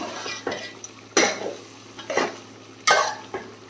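Ginger garlic paste frying in oil for chicken pickle, stirred in a pot: a continuous sizzle with a few sharp metallic scrapes and clanks of the spoon against the pan, close by and without speech.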